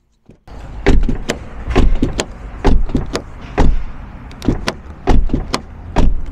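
Repeated sharp clacks from the sideways-mounted pull door handles of a TOGG T10X car, about a dozen crisp, close mechanical snaps in an irregular rhythm, each handle pulled and released.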